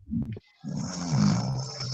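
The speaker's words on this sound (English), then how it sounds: "She's snoring." A woman snores nearby in a low, rasping drone, one breath cutting off before a longer, rumbling inhale that swells and stays rough to the end.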